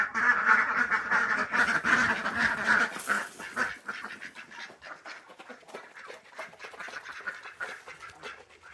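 Ducks quack in a busy, overlapping chorus while being called in at night, loud and close at first and then thinning into scattered quacks and rustling.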